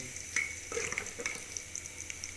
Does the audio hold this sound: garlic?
yes